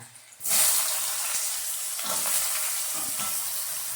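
Onion and garlic hit hot oil in a tempering already holding mustard seeds and asafoetida, bursting into a loud, steady sizzle that runs close and unbroken from start to end.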